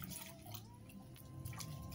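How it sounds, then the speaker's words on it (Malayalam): Water being poured inside an old fluorescent tube light during cleaning, a quiet trickle with light splashes and drips, faint and close. "അത് കഴിഞ്ഞ് നമ്മൾ അതിൻ്റെ ഉള്ളിലേക്ക് വെള്ളം ഒഴിച്ച് കൊടുക്കുക"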